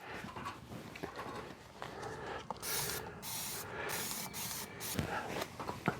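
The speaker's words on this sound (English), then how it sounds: "I'm gonna spray this whole thing and let it soak a minute." Dawn degreaser is sprayed onto a grill in a series of rapid hissing trigger bursts, close and fairly loud, repeating in a quick uneven rhythm over quiet background noise.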